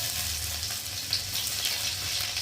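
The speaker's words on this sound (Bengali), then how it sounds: "রসুনটা একটু ভালো করে ভেজে নেবো" Garlic fries in hot oil in a pan for Bengali lentil fritters, giving a steady, close sizzling hiss with small crackling pops throughout.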